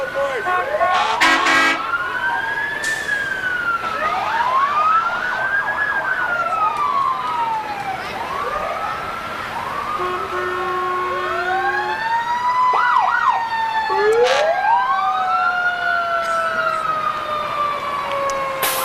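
Fire truck sirens wail in overlapping rising and falling sweeps at a Fourth of July parade in Chautauqua County, loud and sustained, with short air-horn blasts and engine rumble mixed in.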